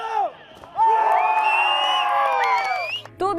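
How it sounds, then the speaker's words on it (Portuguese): Shouts and cheers rise from an excited crowd of spectators at indoor school games, a sustained loud roar of voices with whoops, dipping briefly before surging again near the end. "Teve jogos internos no Centro FAG com uma torcida bem animada."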